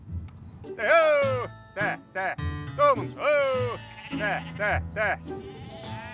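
Several sheep bleat loudly and repeatedly nearby in southern Corsica, their wavering cries overlapping in quick succession with short pauses between calls.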